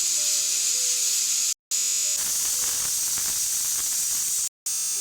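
Steam hissing out of a pressure cooker after cooking potato-tomato curry, a continuous loud hiss broken by two brief gaps, with faint tonal whistling early on.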